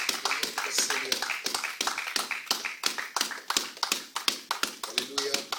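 Rhythmic group clapping from a church congregation at a French-language worship service, brisk steady beats repeating for several seconds, with cheering voices blended underneath.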